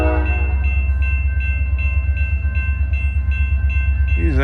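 A CSX freight train passes close by in Plymouth, with a loud, steady low rumble of the locomotive and cars, a sustained horn-like tone above it, and a faint rhythmic clatter throughout.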